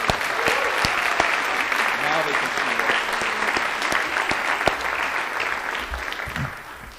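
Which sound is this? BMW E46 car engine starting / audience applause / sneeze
audience applause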